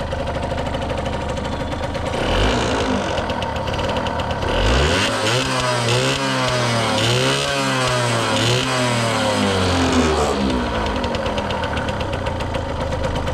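A restored Yamaha YSR50 two-stroke motorcycle with 198 original miles is revved up close. The engine buzzes loudly, then climbs through several rising and falling revs over a steady idle with no talking.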